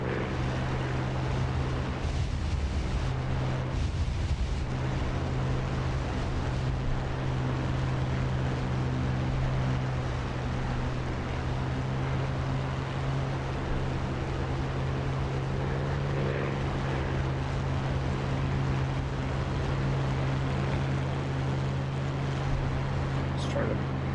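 A P-51 propeller fighter in a video game drones with a steady, loud engine hum throughout, holding an even tone with little change in level.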